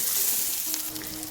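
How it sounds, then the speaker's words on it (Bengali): Onion fries in oil with black cumin, a close, bright sizzle that crackles steadily over the brief moment, with a faint tonal ring partway through. "পেঁয়াজটা দিয়ে ভালো করে লাল লাল করে ভেজে নেব"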